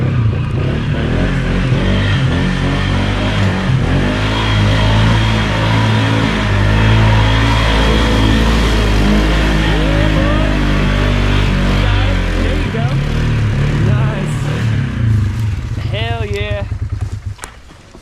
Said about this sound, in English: Just let her bang rev limiter.